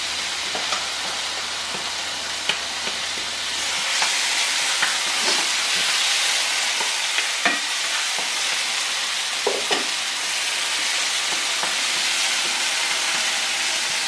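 Mushrooms sautéing in a hot pan, a continuous bright sizzle with scattered crackles and occasional utensil scrapes and clicks, moderately close and without voices.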